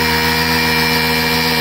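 A small electric motor with a propeller runs steadily in a homemade car-to-plane build, loaded with a water-filled bottle, giving a loud, continuous buzzing whine with strong harmonic tones and no talk.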